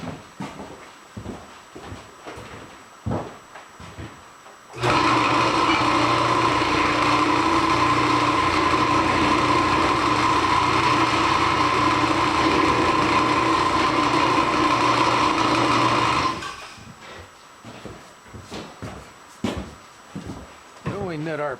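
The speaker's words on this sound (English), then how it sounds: "We're going to take this over to the drill press and countersink both sides of that" A drill press motor whirs steadily for about ten seconds while countersinking a metal plate, with shorter clanks and handling sounds before and after.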